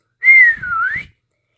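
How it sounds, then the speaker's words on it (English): A single human whistle, like Santa calling his reindeer team, bright and clear, sliding down and then back up in one smooth call lasting under a second, close and alone in silence. "to his team gave a whistle"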